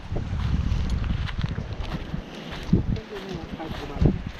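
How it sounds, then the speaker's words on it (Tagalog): Strong wind gusting at Malagundi Point on the coast of Lobo, Batangas, roaring steadily across the microphone in a loud, buffeting rush, with a voice briefly audible under it. "Ang lakas ang hangin."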